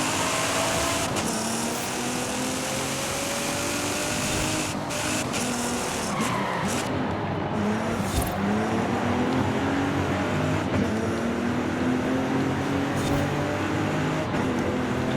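Racing cars drive in Forza Horizon 5, with rising and falling engine revs, tire squeal and skids. The game sound stays loud and continuous, and no one talks over it.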